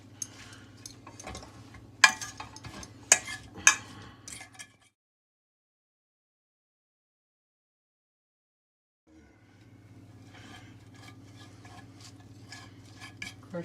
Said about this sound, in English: Crushing the garlic.